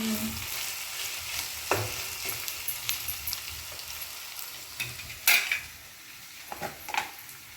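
Fresh onions sauté in a pan, giving a quiet, constant sizzle broken by scattered clinks and scrapes of a spoon against the metal as they are stirred.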